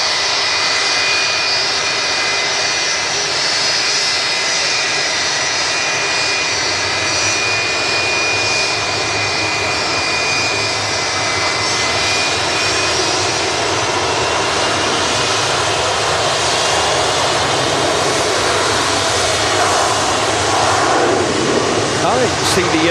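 A passenger airplane engine roars at Manchester Airport, a loud, continuous whine with steady tonal hum that swells slightly toward the end.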